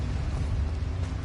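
Bombarda blasting spell from a Harry Potter video game, a dense low rumbling explosion that fills the moment steadily without a sharp single crack, loud and close with no talk.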